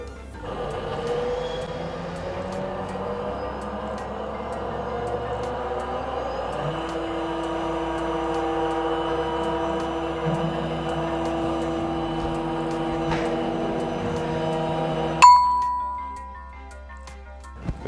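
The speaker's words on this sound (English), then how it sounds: "in the instant you press output, the machine will automatically start cutting" Roland monoFab SRM-20 CNC mill cutting a PCB, a steady close mechanical whine and hum with sustained tones that shift gradually, running continuously before stopping abruptly near the end, leaving a faint residual hum.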